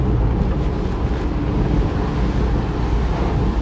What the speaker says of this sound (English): try and eliminate as much wind noise as possible